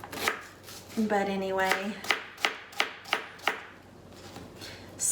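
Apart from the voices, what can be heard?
chopping a yellow onion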